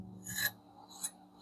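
A kitchen knife drawn across a 600 grit sharpening stone gives two rasping strokes about half a second apart, close and fairly quiet, with a faint hum in the quiet gaps.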